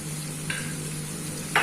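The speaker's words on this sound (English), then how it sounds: "Now we will increase the flame and we will stir fry the vegetables" Vegetables with soya chunks stir-fry in a hot pan, a soft continuous sizzle broken by two quick scrapes of a spatula against the pan, close up and brief.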